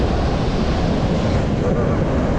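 Hurricane-driven ocean surf surging right up onto the coast makes a continuous, loud, broadband roar throughout, with heavy wind buffeting the microphone and no clear breaks between waves.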